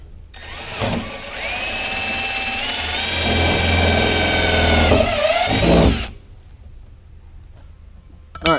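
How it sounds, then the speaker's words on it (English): A power drill bores out a hole with a larger bit while a Rocket Bunny body kit is mounted on a Nissan 240SX S14, a loud steady whine for several seconds that rises slightly before cutting off. "he just drilled out this with the bigger bit"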